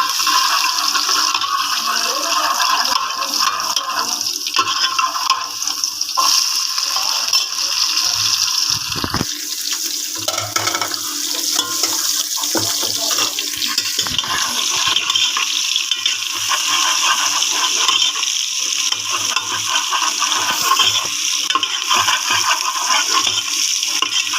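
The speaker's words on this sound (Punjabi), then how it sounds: "ਲਓ ਜੀ ਹੁਣ ਆਪਾਂ ਪਹਿਲਾਂ ਪਾਵਾਂਗੇ ਲਸਣ" Garlic dropped into hot oil for a mixed vegetable dish of potato, cauliflower, eggplant and cabbage sizzles loudly and continuously, a dense close hiss that carries on without a break.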